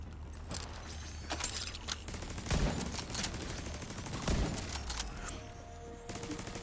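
Sniper rifle fire in The Division 2 gameplay, a handful of sharp, loud cracks spaced a second or two apart over a busy background of game noise and rattling.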